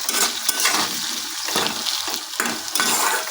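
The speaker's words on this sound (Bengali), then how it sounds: "আলুগুলো আমি তেলের মধ্যে ভালো করে একটু ভেজে নিচ্ছি" Potato pieces fry in hot oil in a pan for a vegetarian cabbage dish, giving a continuous close, bright sizzling hiss with small crackling bursts throughout.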